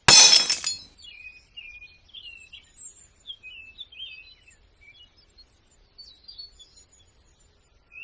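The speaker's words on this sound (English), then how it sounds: "The glass broke with a loud noise." A stone thrown through a shop window smashes the glass in one loud crash, followed by faint tinkling shards and distant birdsong in an otherwise quiet street.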